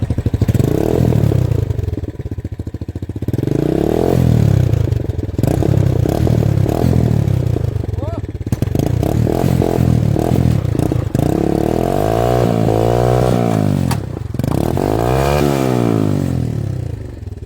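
A motorcycle engine revs hard in repeated loud surges with clattering mechanical noise while the rear tyre is spun in place, each burst rising and falling close by.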